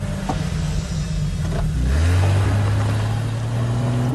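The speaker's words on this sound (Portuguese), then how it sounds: "O deformado então dá partida no carro pra voltar pra casa" A car engine starts up and revs, the low drone rising in pitch as the vehicle pulls away, loud and steady throughout with a rumbling, noisy background and no speech.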